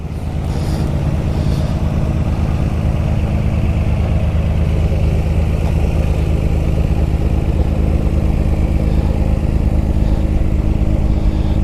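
A modified 1991 Nissan Skyline R32 GTR idles while cooling down, its engine giving a loud, steady, close rumble that runs unbroken with no voices.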